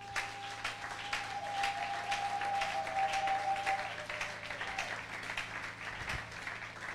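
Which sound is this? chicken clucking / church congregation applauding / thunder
church congregation applauding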